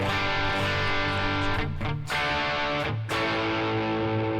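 An electric guitar plays with a crunchy, lightly distorted tone, chords ringing steadily with a couple of brief string-scrape breaks.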